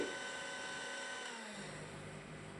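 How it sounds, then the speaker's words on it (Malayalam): An electric hand beater whirs steadily while mixing honey cheesecake filling, a continuous close mechanical drone with a slight drop in pitch partway through. "ഒരു ബീറ്റർ ഉപയോഗിച്ചിട്ട് നന്നായിട്ടൊന്ന് മിക്സ് ചെയ്താൽ മതി."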